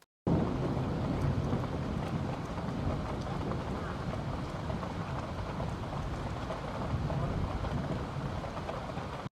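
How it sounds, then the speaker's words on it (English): Steady, dense rainfall hisses without pause, with low rumbles of distant thunder rolling underneath. "we have another rain recording here"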